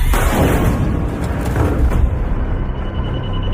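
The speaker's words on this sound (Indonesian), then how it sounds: "tiba-tiba terdengar suara tembakan dari luar" Heavy, booming gunfire bursts in quick succession in a film, loud and close, with rumbling echoes filling the space between shots.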